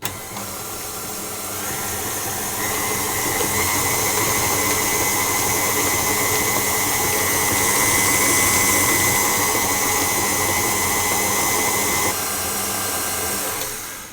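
An electric mixer beats oat cookie dough with vanilla extract in a bowl, giving a steady, loud, close whir that holds unbroken for about fourteen seconds without talk.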